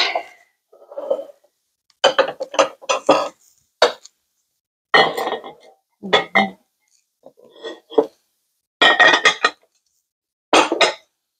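Vintage 1930s Federal Glass bowls and glass plates being shifted around on a surface, a series of short clinks and knocks in irregular bursts separated by silence, close and clear.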